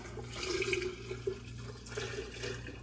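Apple juice pours steadily from a large bottle into a punch bowl, a continuous liquid splashing and gurgling that runs throughout at moderate level, with no speech.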